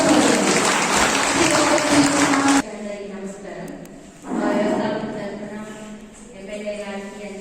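Clapping for guests at an old age home during a birthday celebration, a dense burst of applause that stops abruptly, followed by quieter room sounds and people talking.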